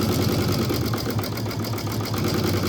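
Sewing machine zigzag stitching around a bowl coiled from craft twine, a fast continuous mechanical whir with a steady rapid rhythm, close and alone throughout.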